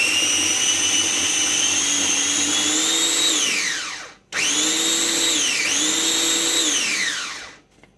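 A food processor whirs steadily as it chops ingredients for a home-cooked dinner, running loud and close in two long bursts, its motor pitch sagging near the end of each before cutting off.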